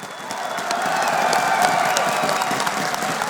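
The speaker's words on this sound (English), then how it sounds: "The crowd is phenomenal." Large esports arena crowd at a CS:GO semifinal in Katowice roars with sustained cheering and applause, a dense wall of clapping and shouts that holds steady at full volume throughout.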